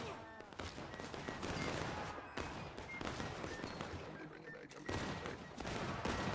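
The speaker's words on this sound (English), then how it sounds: "Oh, that volley took out quite a few of them." Musket volleys crack out from regiments in an American War of Independence battle game, a dense rolling fusillade of many overlapping shots with sharp louder bursts, continuous across the whole stretch.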